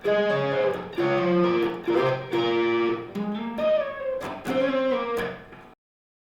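A distorted electric guitar plays part 2 of a riff, close and loud, in a series of sustained, evenly spaced notes and bends that stop abruptly at the end, with no voices.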